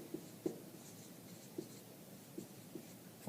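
Hand writing of algebra on a surface during an absolute-value inequality lesson, heard as a few soft, sparse taps and short strokes spread irregularly over a quiet background.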